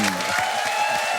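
Brief burst of audience applause for a live band at a stage event, dense and steady, with low voices murmuring underneath.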